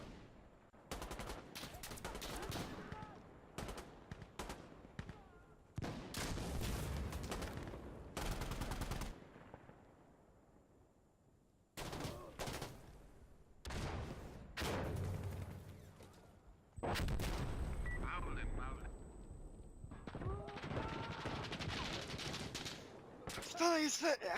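Gunfire in the shooter game Insurgency: Sandstorm, sharp rifle shots and rapid automatic bursts in clustered volleys separated by short lulls, with players talking over the action.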